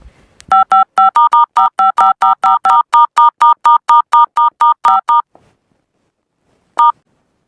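Touch-tone telephone keypad dialing, a rapid run of about twenty crisp, evenly spaced beeps followed by a pause and one final tone, loud and close with no talking.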